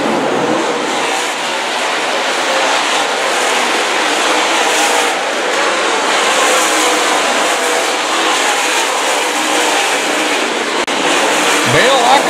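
Race cars lapping at 81 Speedway during a USMTS race, with lapped traffic on track; a steady, loud engine roar runs throughout, and voices can be heard beneath it.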